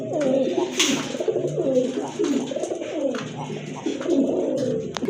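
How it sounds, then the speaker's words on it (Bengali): Pigeons coo repeatedly in soft, rolling phrases close by at a bird market selling domestic and foreign fancy pigeons, with faint background chatter. "মাশাল্লাহ আর একটা কবুতর দেখার মতো"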